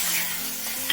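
Chopped tomatoes sautéing in a pan for pav bhaji, a steady close sizzle and fry with a light scrape of stirring near the end.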